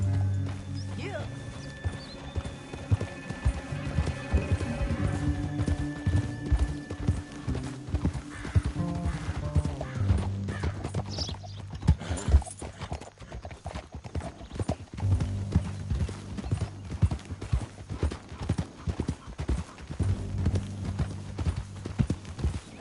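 Steady rhythmic clip-clop of horse hooves galloping in Red Dead, with music, occasional whinnies and mechanical clatter mixed in.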